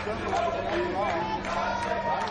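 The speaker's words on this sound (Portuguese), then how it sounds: "vaias e protesto da torcida" Football supporters in a stadium booing and protesting: a steady, dense wash of crowd jeering and shouting, moderately loud and distant, with a faint voice over it.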